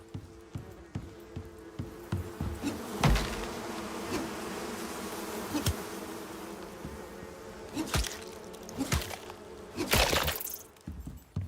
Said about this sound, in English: Alright, bees.